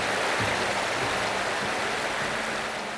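A river in Mostar, Bosnia and Herzegovina, rushing steadily around someone standing still in the water, a dense close broadband wash with no voices.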